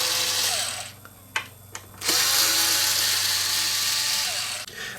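Cordless driver whirring in short bursts as Torx screws are backed out of a faulty BASH amplifier, with a brief pause and a few clicks before a long, steady, close motor run.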